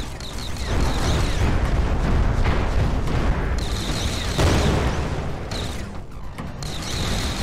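Loud, dense rumbling blast noise with heavy low-end roar, sustained over several seconds with bursts rising and fading, like a large explosion with crackling debris, in a VR sci-fi shooter game.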